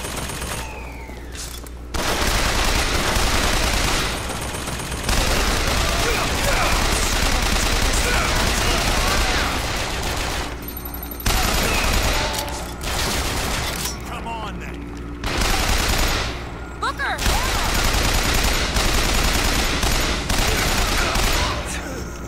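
Continuous heavy gunfire and explosions fill a Bioshock Infinite firefight, loud bursts and fusillades running almost without pause, with brief lulls between volleys and some game voices mixed in.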